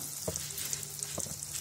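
Taro croquettes coated in breadcrumbs frying in hot oil, a close, steady sizzle with a couple of soft knocks, no voices.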